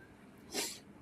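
A single short sneeze bursts out near the mic in the middle of a quiet moment, sharp and breathy, with nobody talking over it.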